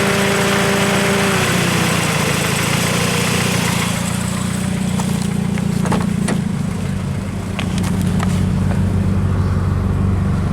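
A Nissan engine idles steadily with the A/C compressor engaged, a continuous mid-level hum with faint clicks and ticks appearing partway through, no voices.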